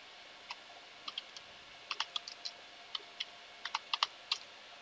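Someone types a Linux apt-get update command on a computer keyboard: a short run of light, close key clicks in irregular bursts, quiet and with no talk.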